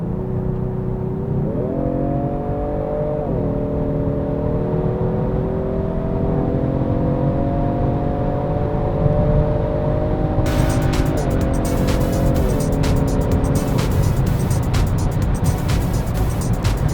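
Genesis G70 Sports AWD sedan with a twin-turbo V6, heard from inside with a steady engine drone that rises and shifts through the gears, plus road and tire rumble throughout.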